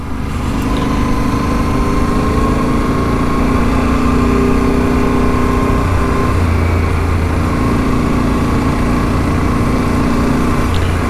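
A motorbike engine drones steadily and loudly the whole way through while riding on a soft sandy road near a beaver swamp, a continuous close hum with no break.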